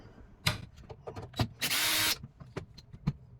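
Half-second whir of a powered T15 Torx bit backing out a screw from a light assembly on a 2020s Chevrolet Silverado or GMC 1500, set among clicks and handling clatter.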